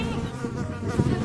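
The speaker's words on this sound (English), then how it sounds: "there's a bee trying to eat me" A bee buzzes close by in a gym, a steady droning hum that wavers in loudness for about a second with no talking.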